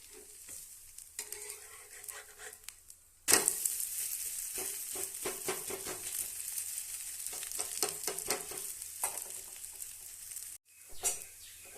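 Dosa made with mudakathan leaves, green gram and red rice cooking in oil on a pan, a bright continuous sizzle that bursts up loudly after a quiet start, crackles steadily, then cuts off briefly near the end.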